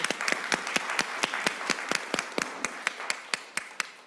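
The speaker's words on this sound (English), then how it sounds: "So let's clap that up." Clapping at a CPS board business meeting for the 2025 graduates, a modest group giving distinct, fairly evenly spaced individual claps over a soft bed of scattered applause, moderately near and without talk.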